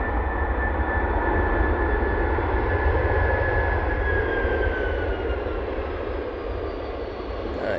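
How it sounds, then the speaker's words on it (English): Jet airliner with General Electric CF6 engines roaring at Manchester Airport, a loud steady broadband rumble with a rising whine held throughout, slowly fading toward the end. "Nice bit of action from the CF6s."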